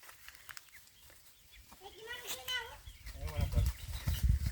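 Chickens on a Filipino farm ranch, with a few higher calls from birds in the middle and scuffling and handling noise building toward the end. Talk is faint in the background.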